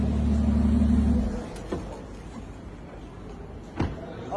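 The engine of a One of One Billionaire Edition Rolls-Royce hums low and steady, then is switched off, leaving quiet room tone broken by a couple of sharp clicks or thumps.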